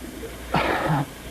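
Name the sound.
sneeze in radio drama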